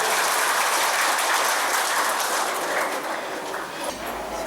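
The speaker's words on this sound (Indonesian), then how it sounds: "Kasih tepuk tangan semuanya" Attendees at a Pemuda Pancasila youth organization gathering in Pekalongan clap in a dense, loud burst of applause that stays strong, then thins slightly toward the end, with some voices underneath.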